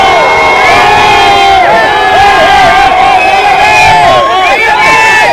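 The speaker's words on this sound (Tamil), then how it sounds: "தலைவரோட அன்பால தானா சேர்ந்த கூட்டம்" A packed crowd of Rajinikanth fans at Rohini Theatre cheers and shouts continuously during a Jailer celebration, a loud, close, sustained roar of overlapping voices and whoops with no breaks.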